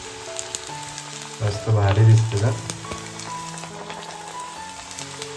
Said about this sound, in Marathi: एक वडा सोडलाय आतमध्ये,